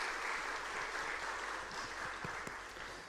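Church congregation applauding, a continuous wash of many hands clapping heard somewhat far off and soft, with a low hum beneath.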